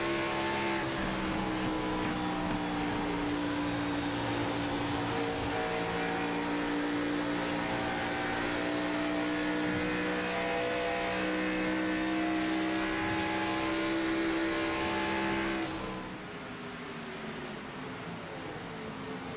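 Race cars roaring past on the Las Vegas oval in a sim racing series, a loud, sustained engine drone with steady tonal whine that drops off abruptly near the end, leaving a quieter engine hum.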